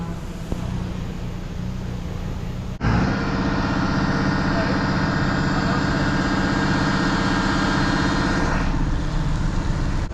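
A tractor-trailer engine idles close by at a boat ramp with a steady, loud rumble that steps up sharply after a few seconds and then holds an even drone to the end.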